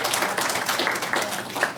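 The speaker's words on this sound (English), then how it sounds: "One more round of applause." A short burst of audience clapping closing a conference session on peer knowledge in education and housing, moderately loud, dense and even, briefly filling the room.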